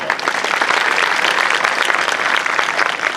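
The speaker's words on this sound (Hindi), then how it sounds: "उसके लिए तालियां।" An audience at a school's introductory function claps in dense, sustained applause, loud and close throughout the short burst.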